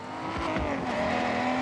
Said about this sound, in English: I kind of like the way that the engine sounds from like the hood bonnet view